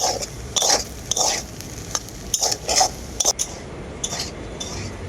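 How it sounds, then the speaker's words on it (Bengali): Mashed potato filling being stirred with fried kasuri methi (dried fenugreek) in a dry pan for egg chops: repeated scraping strokes of a spoon against the pan in an uneven rhythm, close and moderately loud, with no talking. "এই কেশরি মেথিটা দিয়ে আবারও খুব ভালো করে নাড়াচাড়া করে নেব আলুটাকে"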